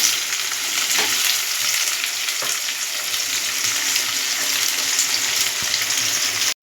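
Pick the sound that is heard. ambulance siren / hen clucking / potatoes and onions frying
potatoes and onions frying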